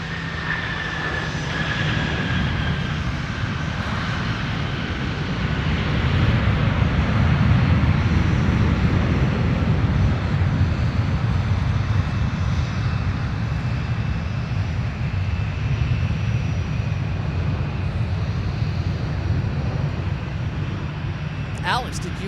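A plane at Minneapolis–St. Paul airport gives a steady, loud broadband engine roar that swells slightly midway and holds for over twenty seconds, with faint voices beneath it.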